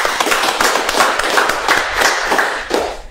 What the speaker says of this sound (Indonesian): Tepuk tangan dulu itu.